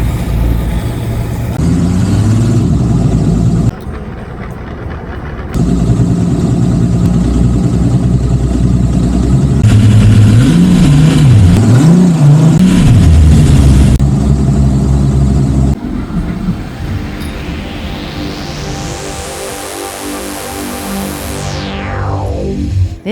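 A racing powerboat engine in the Raid Pavia-Venezia river race runs rough and uneven, loud and close, with surging revs, dropouts and a rising whine near the end.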